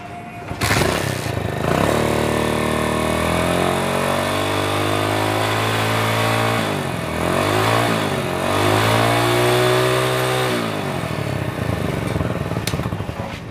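A Hero Honda Splendor motorcycle with a weak battery starts and idles up, its mid-pitched engine running steadily and close with rising and falling revs throughout.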